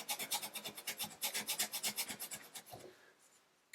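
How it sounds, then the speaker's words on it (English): Close, quiet sanding of a chipped bathtub repair spot, a quick run of rhythmic rasping strokes that slows and fades near the end. "If it's still jagged, just sand a bit more."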